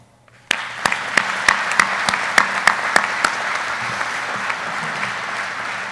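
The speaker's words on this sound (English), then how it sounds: "Please join me in a round of applause for the special people in your life that have helped you get this far." Applause breaks out suddenly at a U.S. Army flight school graduation, a broad even wash of clapping. A few sharp rhythmic claps stand out near the front, then the applause settles into steady clapping.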